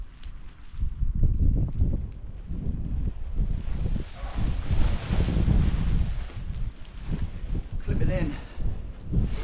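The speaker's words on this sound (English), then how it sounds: "this bloody wind is serious, man" Strong gusty wind buffets the microphone outdoors while a tent is being dried and packed, a steady low roar with rustling fabric throughout, and someone talks over it.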